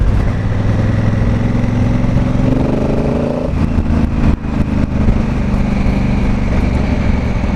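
Honda Africa Twin Adventure Sports motorcycle engine running steadily while riding, a loud continuous drone with a brief rise in pitch mid-way and a short dip before settling back to a constant hum.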